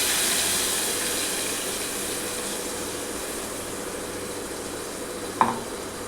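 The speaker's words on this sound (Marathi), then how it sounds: "तेलावरती जरा व्यवस्थित परतून घ्यायचं आहे सगळं" Ground masala paste sautés in hot oil in a pan with a steady, close sizzle that fades slightly over time, ending with a single sharp clink near the close.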